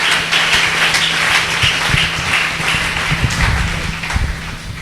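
A church congregation claps loudly and continuously in praise, a dense wash of many hands with rhythmic beats showing through and a steady low hum beneath.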